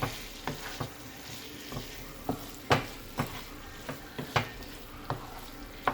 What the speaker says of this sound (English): Mix it in properly.